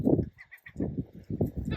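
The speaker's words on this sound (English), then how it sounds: "These goats with their babies are like all up in my business." Goats with their kids bleat close by on Sark in the Channel Islands, with several short, low, throaty calls in irregular succession at fairly low volume.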